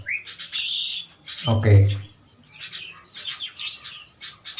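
Small birds, including a prenjak, chirp and tweet in quick bright bursts near a trap. Someone talks throughout, and there is a brief low thump partway through.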